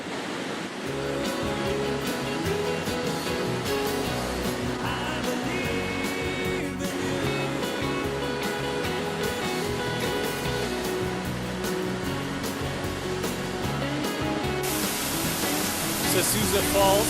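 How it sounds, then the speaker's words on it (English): Large ocean waves break and surge along the rugged shoreline of the West Coast Trail, a loud, continuous roar of surf with wash and spray filling the whole stretch, no voices over it. "The waves are very large."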